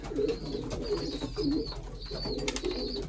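Pigeons at a corn feeding coo repeatedly in soft, rolling low calls, close and steady, with faint higher chirps from other birds behind.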